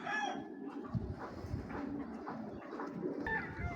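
Pigeons at a breeding farm coo softly and repeatedly, low throaty calls overlapping in a quiet loft with faint background noise.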